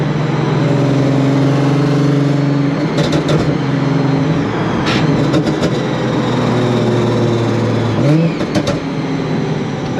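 A supercharged Nissan 350Z engine drones steadily under hard driving, its harmonic tone climbing and then dropping at a shift near the end, with occasional faint voices in the cabin.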